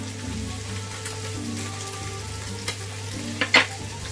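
Stroganoff seasoned with salt and black pepper gets stirred in a frying pan, giving a soft continuous sizzle with a few scraping clicks of the spoon near the end.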